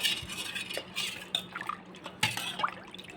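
Boondi and spices being mixed in a bowl for homemade pani puri, heard as repeated scraping and clinking of a spoon against the bowl, with light rattles and a few sharper knocks, close by and moderately quiet, with no talking.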